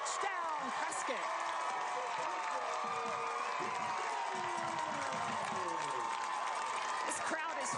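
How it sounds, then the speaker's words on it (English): A high school football crowd at Bradshaw Mountain vs Prescott roars and cheers after a touchdown, a steady wash of distant shouting and applause with commentators talking over it. "This crowd is fired up."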